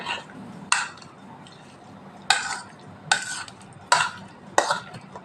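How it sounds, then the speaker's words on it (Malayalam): Lemon pickle with a tablespoon of salt is mixed in a bowl, producing five distinct scraping, knocking strokes spaced at irregular intervals, close and clear over quiet background. "ഉപ്പ് നന്നായിട്ട് എല്ലായിടത്തും ആകും പോലെ നമുക്കിങ്ങനെ ഒന്ന് മിക്സ് ചെയ്യാം"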